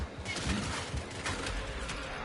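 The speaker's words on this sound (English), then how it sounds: "Those gunshots were right above my head." Gunfire in the video game Dying Light: The Beast, a rapid volley of sharp shots over a continuous busy game backdrop, fairly loud and close for a couple of seconds.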